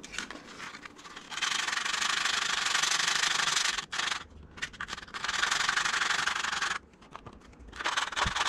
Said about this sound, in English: Gonna sand it all back, get it all ready